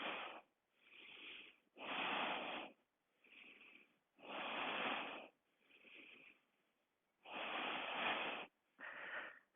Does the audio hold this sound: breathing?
yes